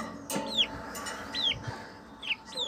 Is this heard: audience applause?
no